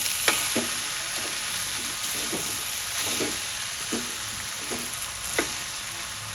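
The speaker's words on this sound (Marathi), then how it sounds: "थोडी मिरी पावडर घालूया आणि कांद्याची पात घालूया. छान परतून घेऊया." Veg fried rice with pepper powder and spring onions stir-fried in a pan, a steady moderate sizzle broken by regular scraping strokes of a spatula roughly every half second, close and alone.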